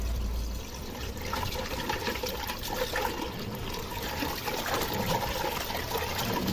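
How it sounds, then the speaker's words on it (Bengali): Rohu fish pieces rinsed in water, giving a continuous close splashing and trickling with no voices over it. "মাছগুলো আমি ধুয়ে পরিষ্কার করে নিতেছি"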